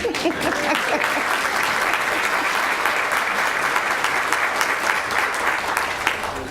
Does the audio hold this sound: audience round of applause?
yes